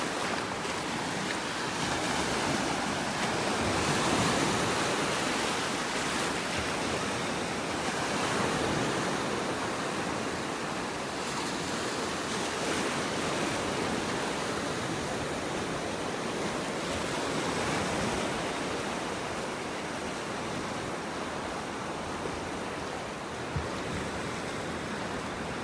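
Ocean surf rolls in at the beach in North Naples, Florida, a constant loud broadband wash of breaking waves and wind sustained without pause.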